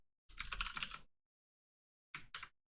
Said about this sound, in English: I just hit the save keyboard shortcut